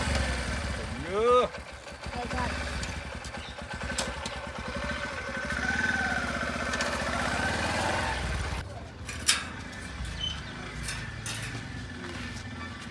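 A motorbike engine runs steadily at close range throughout, with people talking over it, the engine note continuing under the voices and dropping somewhat near the end.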